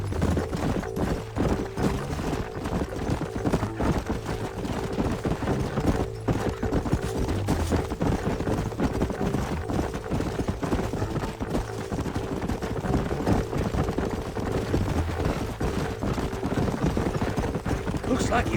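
Horses' hooves clip-clop steadily and continuously across Red Dead Redemption's western landscape, the even rhythmic thudding carrying on at a moderate distance beneath other game noise.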